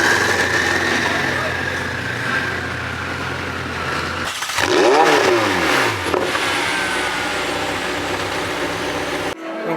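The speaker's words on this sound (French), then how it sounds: "3 Ferrari qui arrivent" Ferrari supercars, GT3 and GT3 RS models, pull up together, engines loudly idling and revving close by, with a sharp swelling rev that rises and falls in pitch midway.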